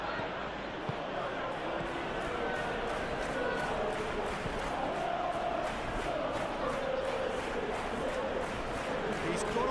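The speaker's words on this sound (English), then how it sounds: "the crowd are reacting to that now" Stadium crowd noise from a PES 21 football match, Manchester United against Aston Villa, a dense continuous roar with rising chants that holds steady and fairly loud throughout.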